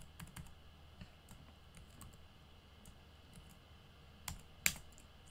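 Typing on a computer keyboard produces sparse, faint, irregular key clicks in a quiet room, with one slightly louder tap near the end.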